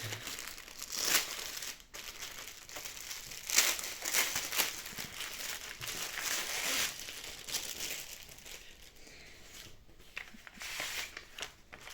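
Plastic packaging crinkles and crumples in close, irregular bursts as a packaged 40 by 50 cm diamond painting canvas is unwrapped by hand. The rustling continues throughout with no one talking.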